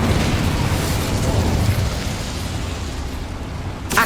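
Incendio fire spell cast in the video game Hogwarts Legacy, a loud roaring burst of flame that swells then settles into a sustained rumbling whoosh amid game ambience.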